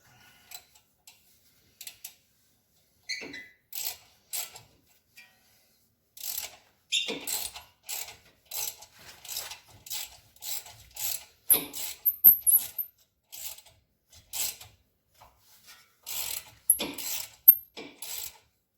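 Ratcheting wrench working on rusted wheel hub bolts of a 2005 Dodge Ram, heard as quiet, intermittent bursts of sharp metallic clicks with short pauses between runs.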